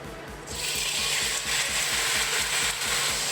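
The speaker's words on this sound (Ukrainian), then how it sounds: "та обсмажуємо на сильному вогні приблизно 6 хвилин" Steady, close sizzling of chicken frying in hot oil in a deep pan over high heat begins after a brief pause and continues evenly, with faint rhythmic low thumps underneath.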